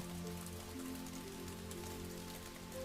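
Water hitting leaves in a steady rhythmic patter, a full even rainfall heard up close at a constant level, with a soft low hum running beneath and no voices.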